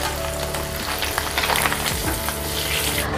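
Pieces of pindang tongkol fish fry in oil until lightly browned, a loud, dense, continuous sizzle heard up close without pause.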